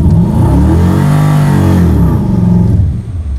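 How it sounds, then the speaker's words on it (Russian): Volga El Camino V8 with 300 horsepower doing a burnout, its engine revving hard and loud with rising and falling pitch, close by and alone without talk. "Это был бернаут."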